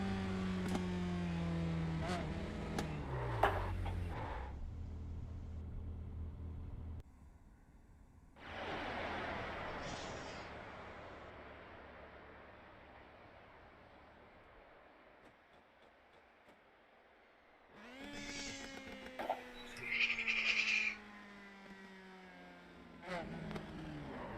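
USF2000 race car engine in the iRacing sim, heard in separate bursts of revving and whining that drop to near silence between them, moderately loud with the engine note shifting pitch as it accelerates and decelerates.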